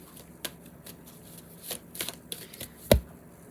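A tarot card deck is shuffled at a tarot reading, soft riffling flutters with a few crisp card slaps and a sharper snap near the end, close and quiet with no talk.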